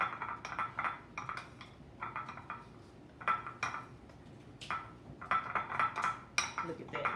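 Soft butter being stirred into a glaze in a pot, rapid bursts of metal spoon clinking and scraping against the pot in uneven rhythm, close but fairly quiet.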